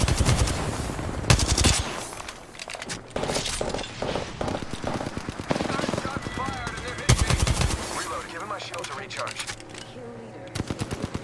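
Rapid automatic gunfire from the video game Apex Legends, loud bursts of machine-gun fire, sustained volleys broken by short pauses, with game sound effects and occasional player voices underneath.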